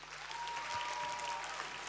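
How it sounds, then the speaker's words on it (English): Brief burst of audience applause at a Junior Achievement startup awards night in Malta, steady dense clapping from a crowd in a hall, short and even. "let's give them all a big round of applause."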